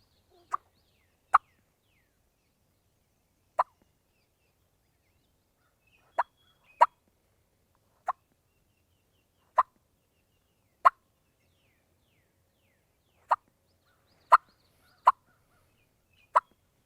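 Wild turkey hen clucking imitated on a turkey call: a dozen sharp, isolated clucks spaced irregularly a second or more apart, clear and close with silence between them.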